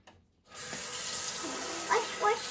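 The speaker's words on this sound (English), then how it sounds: "You ready to turn on the water?" After a brief quiet moment, a tap turns on and water gushes steadily into a sink nearby, with faint voices briefly audible underneath.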